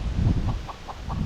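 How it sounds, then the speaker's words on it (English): A chicken clucks in a short rhythmic series of four or five calls after laying an egg outside the coop on an off-grid homestead, fairly faint over low rumbling background noise. "That's the sound of a chicken that may have laid an egg outside of the coop."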